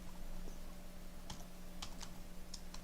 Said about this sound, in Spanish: Yo voy a activar el modo de insertar presionando la tecla de insert y ahí voy a escribir.